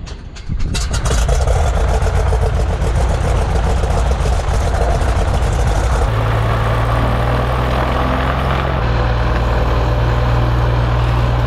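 A small private plane's propeller engine cranks and catches, then settles into a steady, loud, close idle with a pulsing low drone.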